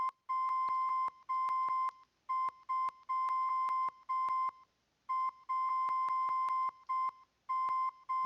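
Electronic beep pattern from an LMMS audio processor, steady tones in short rhythmic bursts with some hits skipped and brief gaps of silence, clear and alone.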